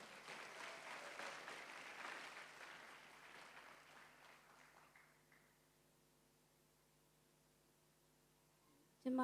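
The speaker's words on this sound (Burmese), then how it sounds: "ပရိသတ်များအားလုံးလက်ခုပ်တီးပြီးဂုဏ်ပြုကြရအောင်" Wedding guests applaud during the ceremony, a dense, loud patter of clapping that swells, then thins and fades out after about five seconds, leaving a quiet hum before a sudden sharp sound at the very end.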